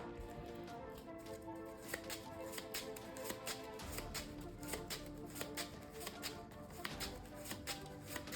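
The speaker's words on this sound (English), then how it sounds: "I can shuffle a Spider-Man card into my deck." Playing cards for a Marvel Champions tabletop game are shuffled into a deck with a quiet, continuous run of soft riffling taps and flicks, with no voices.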